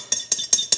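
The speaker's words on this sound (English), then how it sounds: "scrape the bowl a little." A utensil scrapes a bowl of lasagna filling in four quick, evenly spaced strokes, each a short bright scratch, close and fairly loud with no talk.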